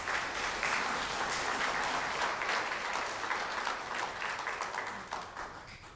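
An audience in Putnam County gives Quint Studer and his staff a round of applause, a sustained, fairly distant wash of many hands clapping that fades slightly near the end.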